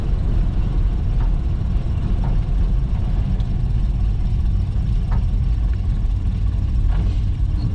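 A Ford Model A fitted with a Burtz block runs in third gear, its engine a steady, loud low rumble with constant road and wind noise and no break.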